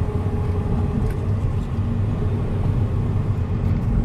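A Nissan Almera 2.2 Di diesel engine with 150 hp pulls steadily under acceleration while overtaking, giving a continuous low rumble heard from inside the car.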